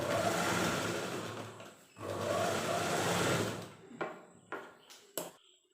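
A sewing machine stitching the lining of an umbrella frock runs in two steady bursts of motor whirr, then gives way to a few short clicks and taps.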